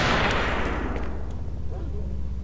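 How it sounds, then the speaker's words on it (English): Gunfire in the video game STALKER: Oblivion Lost, a loud burst at the start that fades into a low rumbling tail, with a voice talking underneath. "those shots are a little bit shit"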